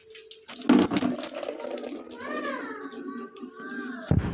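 Water pours into a pan of steaming vegetable momos, a running, splashing stream with a clatter at the start and end and a faint voice in the background.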